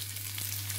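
Garlic sizzles in a hot pan for a short stretch, giving a bright, steady frying hiss heard close up with no voices.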